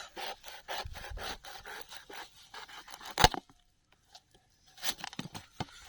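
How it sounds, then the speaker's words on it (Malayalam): A knife saws through a local watermelon in a series of close, rhythmic rasping strokes, followed by a sharp crack as the fruit splits and a few softer scrapes afterward. "നമ്മുടെ നാടൻ തണ്ണിമത്തനാണ് നമ്മൾ കട്ട് ചെയ്യാനായിട്ട് പോകുന്നത്"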